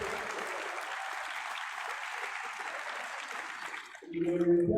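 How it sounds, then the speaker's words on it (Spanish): Audience members at a political forum applaud the debaters with a steady, moderately loud round of clapping that holds for about four seconds, then cuts off abruptly into a different, muffled sound. "Un aplauso para todos los debatientes."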